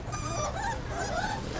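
A puppy whimpers and whines in high, wavering cries, close by over a low rumbling background, with no talk.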